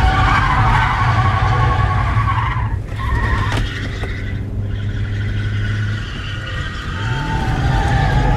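A drift car slides around a circuit with loud, sustained tire squeal and skidding over a steady engine drone, the screech dipping briefly midway and rising again toward the end.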